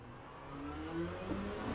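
Race car engine in a racing video game pulls out of the pit lane after the pit limiter is released, a steady mid-pitched drone that climbs slightly as it accelerates, close and continuous with no talk over it.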